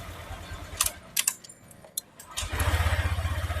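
A Honda Vario 150 scooter with a faulty ECU is shaken by hand, with clicks and rattles, then the starter cranks and the engine catches and settles into a steady close idle.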